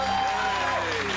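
A television talk-show studio audience breaks into a short, dense burst of clapping to welcome a guest, with a tonal voice or music line faintly running underneath.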